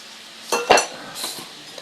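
A newly bought cooking pot and plates being handled at home, giving a few light clinks and knocks of metal and dishware, fairly quiet and close, with no talk.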